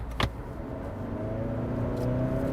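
A Hyundai Santa Cruz truck pulls away in drive, its engine a low, steady rumble that builds gradually in loudness as it accelerates, with a brief sharp knock near the start.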